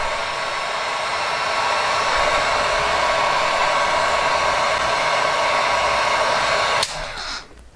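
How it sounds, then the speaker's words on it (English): A heat gun blowing hot air while shrinking tubing on an action figure, a loud steady rushing whoosh that runs unbroken for about seven seconds before cutting off and winding down. "I'm going to go run this heat gun somewhere else"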